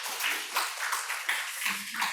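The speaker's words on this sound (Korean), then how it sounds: "우리 어제 수고한 귀한 분들께 우리 격려와 감사의 박수 한번 하도록 하겠습니다" A Korean church congregation in Atlanta claps during a Sunday service to thank volunteers. Soft, uneven bursts of hand clapping come from a moderate distance and stay fairly quiet.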